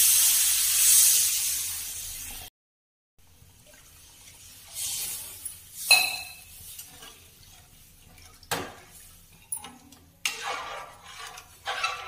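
A loud sizzling hiss of water poured onto frying masala in a hot pan, then a pause followed by softer bubbling, a few stirring scrapes and clinks of a utensil.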